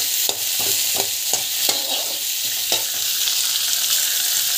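Onions, chillies and garlic fry in hot oil with a steady close sizzle, punctuated by repeated sharp scraping clicks as a spoon stirs the pan, with no talking.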